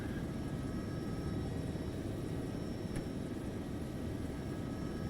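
A helicopter in the video game ARMA 3 hovers nearby, its rotor and engine making a steady, loud, unbroken throbbing drone across the whole stretch, with no voices.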